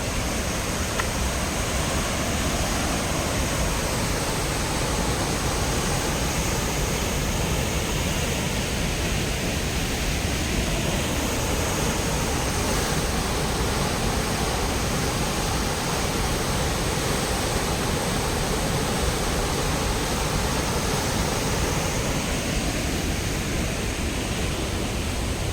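Perunthenaruvi waterfall pounding onto rocks like crashing sea waves, a dense, unbroken roar of rushing water that holds steady and loud throughout, with no voices.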